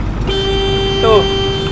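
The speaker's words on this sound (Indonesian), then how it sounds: "suara klaksonnya teman-teman, coba kalian lihat dengar teman-teman ya, seperti suara klakson motor" A small train sounds its horn, a short high toot much like a motorbike horn, rising out of steady loud background noise partway through.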